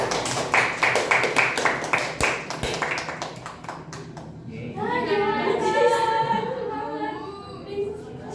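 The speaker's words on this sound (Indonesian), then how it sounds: "Tepuk tangan buat Tasya." Clapping for Tasya at a closing party: a few sharp, rhythmic hand claps up close for several seconds, then fading as a group of voices chatters and talks over it.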